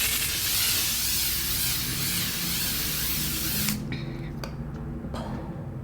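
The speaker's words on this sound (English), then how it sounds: "Setting spray, let me go back to L'Oreal." A L'Oreal setting spray misting onto a face in a continuous hiss for about four seconds, then several short separate spritzes, close to the mic with no talking.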